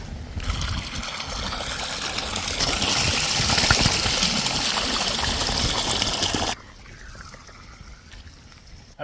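Spring water trickles and splashes steadily close by in the Allegheny National Forest, a bright continuous burble that cuts off suddenly, leaving quiet outdoor ambience.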